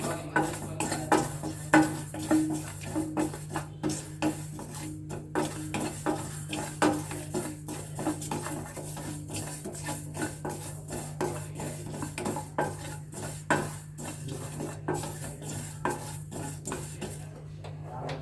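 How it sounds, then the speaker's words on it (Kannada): Cumin seeds are dry roasted in a pan for Mysore-style chutney powder, with rapid, continuous scraping and clinking of a metal spoon against the pan, close and busy, over a faint steady hum and no talk. "ಜೀರಿಗೆಯನ್ನು ನಾನು ಹಾಗೆ ಡ್ರೈ ರೋಸ್ಟ್ ಮಾಡ್ಕೋತಾ ಇದ್ದೀನಿ"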